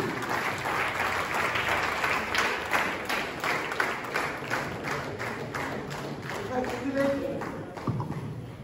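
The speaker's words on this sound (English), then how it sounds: "Big round of applause, please." Audience claps at a Rotary Club installation ceremony, a steady, moderately distant patter of many hands, with voices and some thumps mixed in near the end.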